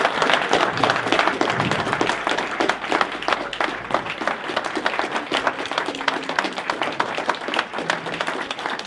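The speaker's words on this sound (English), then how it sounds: "Let's give another applause to her" Steady applause from an audience, a dense wash of many hands clapping continuously throughout without a break.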